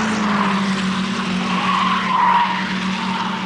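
Ford Laser race cars in a circuit race at Amaroo Park, 1985, with tyres squealing loudly through a corner over a steady engine roar.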